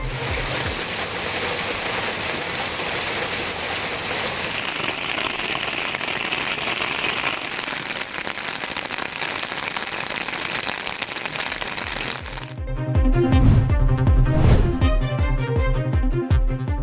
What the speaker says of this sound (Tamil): திடீரென மழை பெய்தது